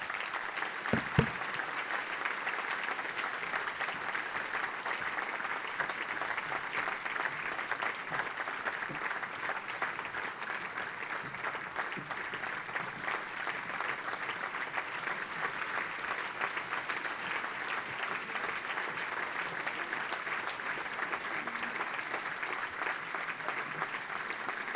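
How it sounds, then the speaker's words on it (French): An audience at a dinner-conference in a château claps steadily for a long stretch, the dense, even applause filling the room at a moderate level without cheering. "Merci pour les applaudissements."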